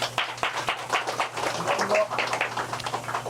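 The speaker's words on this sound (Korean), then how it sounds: "우리 뜨거운 박수를 부탁을 드립니다." Warm applause from the crowd at a primary school alumni reunion and general meeting in Dangjin, a dense, steady patter of many hands clapping with murmured voices mixed in throughout.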